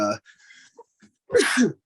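A single sharp, breathy sneeze bursts out near the end, up close and loud, following a stretch of quiet breathing and low vocal sounds.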